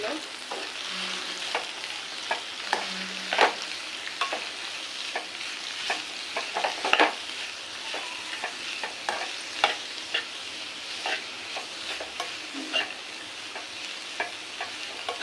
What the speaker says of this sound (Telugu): ఇలా మిక్స్ చేసుకుని మూత పెట్టుకుందాం